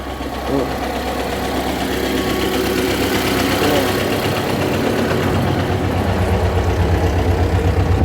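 A T-40AM tractor engine labors steadily while pulling a Kverneland 2-35 plough through a weedy field, a loud continuous diesel rumble with a rough knocking texture that grows heavier toward the end.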